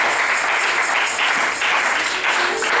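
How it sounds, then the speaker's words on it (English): A church congregation claps together at a prayer and fasting service, a dense, continuous burst of applause that stays loud and even for a few seconds. "Let's give a clap of it to ourselves."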